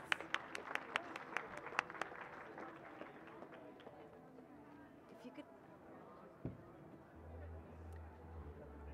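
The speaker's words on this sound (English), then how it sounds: "Please help me in giving another warm round of applause to our wonderful panelists." A few sharp, isolated claps ring out at first for poetry panelists at a literary festival session, then give way to soft crowd murmur and shuffling, with a low hum entering near the end.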